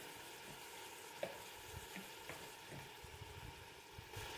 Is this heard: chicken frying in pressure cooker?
yes